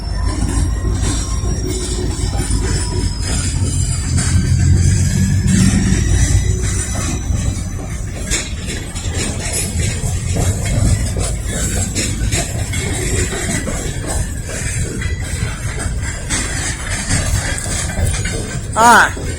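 A CSX freight train hauled by a GP40-2 locomotive rolls along the tracks at Lynchburg's lower basin, with a continuous rumble, clanking and high wheel squeal throughout, while people talk nearby over the train noise.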